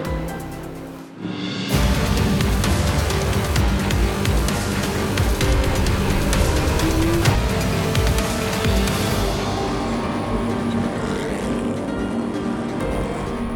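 A BMW M6 Coupe heads down pit lane at Road Atlanta, its engine a steady, close, dense rumble heard from inside the cabin that starts abruptly and holds an even level throughout.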